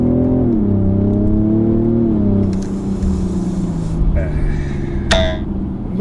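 BMW M550d quad-turbo diesel car accelerating hard on a straight road, a loud steady engine drone with rising pitch up close from inside the cabin, a short shift break around the middle, and a person talking over it.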